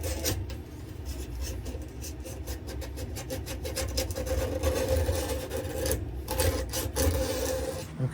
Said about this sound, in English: now that I have gone over it with a little piece of sandpaper